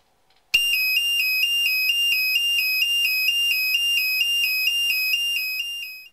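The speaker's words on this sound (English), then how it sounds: "I've covered the siren so that at least we can stand the noise." A loud electronic burglar alarm box siren, covered to muffle it, sounds steadily, a rapid repeating two-tone pulse that starts abruptly and continues for several seconds.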